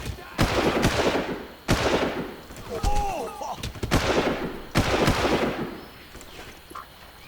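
Gunshots in the 2004 video game Far Cry: four loud, sharp reports spaced about a second apart, each ringing off into a decaying tail, with a brief whistling sound between the second and third.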